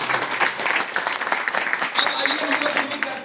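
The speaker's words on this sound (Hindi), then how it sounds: "एक बार ताली बजा लीजिए, जोरदार ताली।" An audience claps loudly and steadily at a talk, a dense, continuous round of applause filling the whole moment with no pauses.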